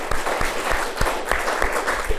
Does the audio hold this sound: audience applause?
yes